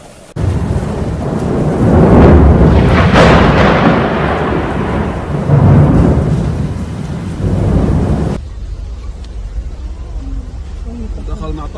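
Heavy rain pours down in Mecca with loud rolling thunder rumbling in long waves over the downpour, then the storm noise cuts off abruptly and faint background sound remains.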